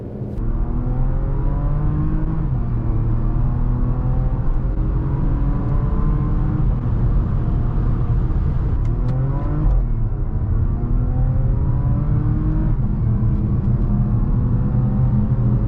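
Porsche Macan S with a 340 horsepower engine accelerating hard, a loud, sustained engine drone that climbs in pitch through several gear changes, heard from inside the car.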